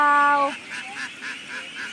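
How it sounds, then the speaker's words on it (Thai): A loud honk opens, then a dense, continuous chorus of a huge flock of laying-breed ducklings, around twenty thousand, calling together fills the air. "พามาดูลูกเป็ดฝูงสองหมื่นเนาะ"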